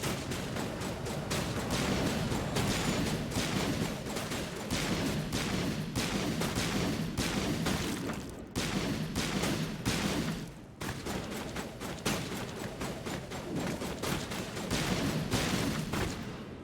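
Rapid sustained gunfire in the video game Mass Effect 1, dense bursts of shots that barely pause across the whole stretch, loud and close with a brief gap midway.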